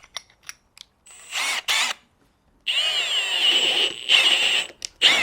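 A power drill bit with a chipped cutting edge boring into wood in short bursts, a grinding, rattling whine with brief pauses between runs, loud and close.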